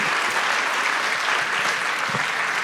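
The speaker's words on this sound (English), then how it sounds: "Thank you very much for all the panelists. Round of applause." Audience applause for a panel of speakers at a government technology leaders conference, dense steady clapping from a large crowd filling the whole stretch at even loudness.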